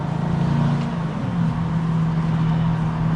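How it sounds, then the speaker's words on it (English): An Aston Martin DBX engine drones steadily in a low hum from inside the moving car, its pitch dipping and rising slightly as it shifts down, with no talking. "Oh, the downshifts. You can hear the downshifts."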